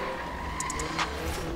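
Tires of an Audi R8 V10 Plus skidding and scrubbing for grip in Forza Horizon 3, a steady squealing hiss over the engine drone, with a few short chirps around the middle and no talk.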